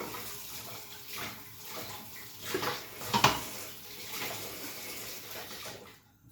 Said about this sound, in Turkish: Ondan sonra böyle bulaşıklarını yıkayacağım.